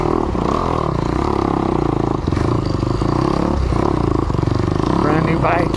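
A brand-new 2021 Kawasaki KX 250X dirt bike engine labours up a steep wall, its loud, close drone steady throughout with clattering chassis noise and brief blips under the rider's voice.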